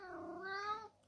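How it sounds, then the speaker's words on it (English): A single drawn-out cat meow, clear and fairly close, rises and then trails off in under a second, leaving quiet behind it. "Meow. Kittens."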